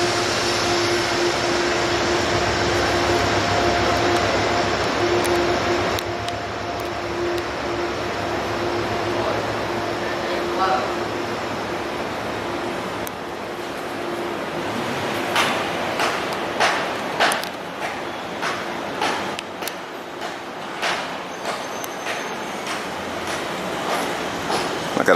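A loud train rumbles past nearby in Harlem, New York City, its steady roar fading into clattering, rhythmic wheel clicks on the rails.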